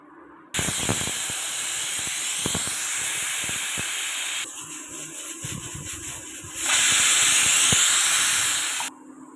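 Pressure cooker venting steam while cooking a vegetable gravy, a loud continuous hiss that starts abruptly, changes pitch midway, swells louder and then cuts off, with faint kitchen clatter underneath.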